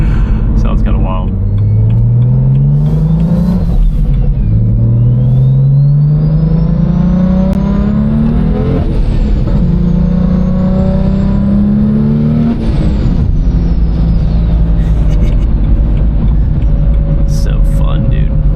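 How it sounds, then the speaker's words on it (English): Engine of a BMW 1M clone car revving hard through repeated gear pulls, rising drones that climb, drop and climb again, loud and close from inside the cabin, with a voice talking over parts of it. "This car just makes crazy noises."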